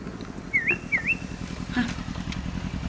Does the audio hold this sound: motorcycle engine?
yes